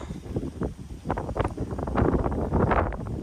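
Wind blows outdoors at a horse training session, a steady gusty buffeting across the microphone with rustling bursts throughout and no speech.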